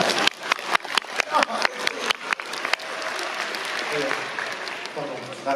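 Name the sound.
festival audience applause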